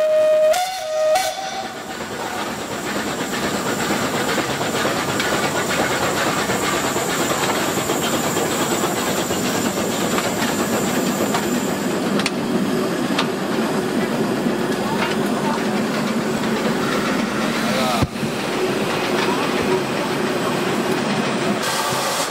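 Steam tram in Mulhouse running steadily with a continuous loud hiss of steam and a sustained whistle tone, mechanical rumble throughout and a sharp knock near the end.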